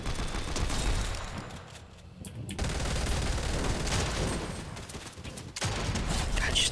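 Dense, sustained video game gunfire, a loud close fusillade of overlapping shots with only brief dips in the barrage.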